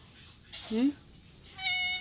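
A cat meows once, fairly close, with a second short meow following a moment later; faint background noise between the calls.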